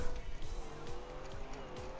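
Heavy desert car in Trackmania with engine droning and tires squealing steadily through a turn, the tone rising and falling under a faint continuous mix, with no clear pauses.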